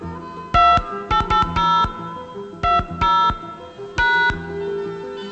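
Telephone keypad tones entering a bank customer number, several quick bursts of dual-tone beeps in uneven groups, loud and close with short gaps between keypresses.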